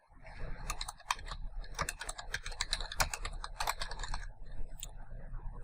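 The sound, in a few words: typing on computer keyboard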